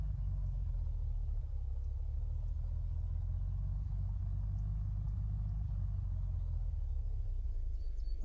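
A car engine in the video game Unturned gives a steady, deep rumble that holds at a constant loudness throughout, with no voices over it.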